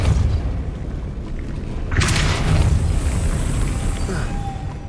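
A Depulso force spell is cast in the Hogwarts Legacy video game, giving a single bright whooshing burst about midway. It rises over a steady low rumble of game ambience and then trails off.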